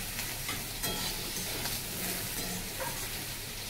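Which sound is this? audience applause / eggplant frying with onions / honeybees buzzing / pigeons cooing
eggplant frying with onions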